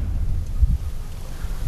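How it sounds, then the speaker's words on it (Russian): Strong wind buffets the microphone with a steady low roar and rumbling gusts, and no voices are heard. "Сильный ветер."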